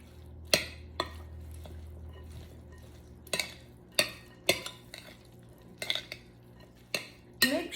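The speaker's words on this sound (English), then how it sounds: "Now we just stir it in." A utensil scrapes and clinks against a bowl while dressing is stirred into a Frito corn salad, irregular sharp knocks spaced a second or so apart, close and quiet, with no talking.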